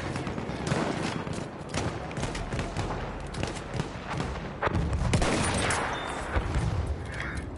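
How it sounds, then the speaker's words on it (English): Artillery barrage and gunfire in the video game Battlefield 1, a dense stretch of rapid rifle and machine-gun shots with heavy booms, loud and continuous throughout. "Wait for the enemy artillery barrage."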